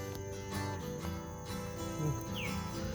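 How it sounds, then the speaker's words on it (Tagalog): Birds chirp faintly against a background hum in a forest with banana plants around seven o'clock, with occasional short tweets and calls scattered through the quiet. "Wala ka maririnig kundi ibon."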